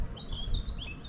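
Gulls call out near a waterway on a boat trip through canal gardens, a few thin, high chirping cries over a low rumbling background, fairly close and brief, with no talking.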